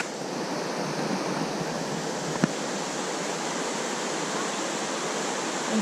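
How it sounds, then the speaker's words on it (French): Continuous rushing water of a stream pouring over broken rock in a canyon at St-Narcisse-de-Rimouski, a steady broadband roar with no talking and one brief click. "puis le ruisseau coule dedans"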